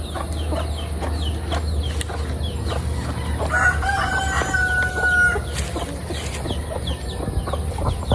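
Roosters crow repeatedly over steady clucking from a flock of chickens, close by and fairly loud, with a constant low rumble underneath.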